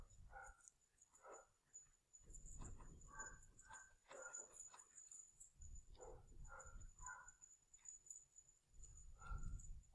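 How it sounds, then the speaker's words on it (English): A dog barks intermittently somewhere in the background of an indoor lecture recording, with repeated short yips and bow-wows at moderate level. Construction noise is going on outside at the front. "I apologize about the dog barking in the background if you hear that."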